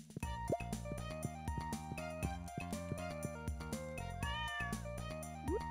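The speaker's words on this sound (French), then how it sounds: "Là, je reconnais bien le chat, là." Cat meows from the video game Stardew Valley Expanded, short game-style mews over a busy, continuous in-game music track, with no talking.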